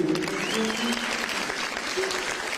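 Steady applause from a concert audience at a show in Esenyurt, a dense continuous clapping that fills the whole stretch without a break.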